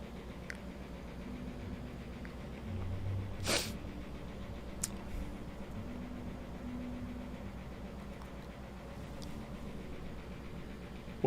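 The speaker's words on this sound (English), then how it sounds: "I think I got to sneeze" A single sharp sneeze bursts out mid-clip from one person during a casual chat among friends, loud against a steady low hum with otherwise quiet surroundings.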